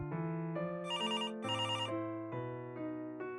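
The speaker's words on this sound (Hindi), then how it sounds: "ये मोबाइल की जगह लैंडलाइन खनखना रहा है" A landline telephone rings in bright electronic warbling bursts over a steady melodic ringtone-like tone, loud and close, with no talking.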